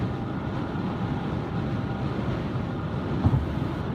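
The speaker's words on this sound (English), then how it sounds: "The wind is so crazy right now." Strong wind on a bridge roaring and buffeting the microphone in a constant low rumble, with a brief louder gust thump near the end.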